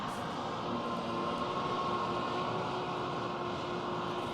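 A John Deere tractor runs while spraying herbicide on a flax field. Its engine makes a constant broad rumbling roar, close and unbroken, with no voices.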